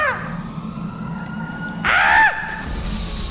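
A police siren from the video game Grand Theft Auto V gives one loud, rising-and-falling wail lasting about half a second, surrounded by steady in-game background rumble and no speech.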